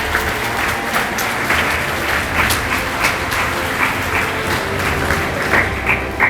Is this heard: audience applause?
yes